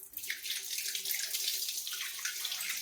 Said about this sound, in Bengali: এবারে মাছগুলো ধোবো